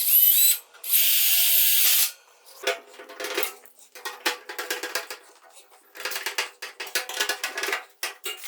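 Holes are drilled through metal to mount a part on a welding cart, with a loud, high power-drill whine in two bursts followed by a series of lighter metallic clinks and rattles.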